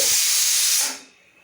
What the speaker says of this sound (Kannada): cooker vigil ಸೌಂಡ್ಗೆ